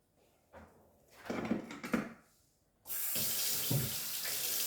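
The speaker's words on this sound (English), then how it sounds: "I am going to rinse empty rubbish out of the sink first." Tap water runs into a kitchen sink, first in short intermittent bursts as rubbish is rinsed out, then a steady, loud continuous stream filling the second half.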